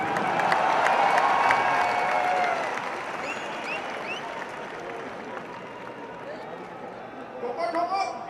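A large crowd at a Congress party political convention claps and cheers in a dense, loud wash that softens after a few seconds and carries on steadily, with a brief swell near the end.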